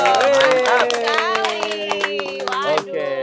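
A group of people clap their hands during a podcast with young basketball players, the quick patter mixed under overlapping talk and voices.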